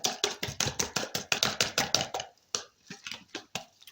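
Rapid, regular strokes of a whisk or fork beating batter for mushroom fritters in a bowl, close and steady, pausing briefly before a few slower beats.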